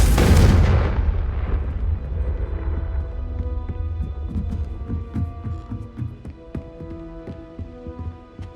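A Confringo blasting spell explodes in Hogwarts Legacy: a loud, deep boom at the start that rolls off into a long rumbling tail, with scattered crackles and faint game ambience ringing on behind it.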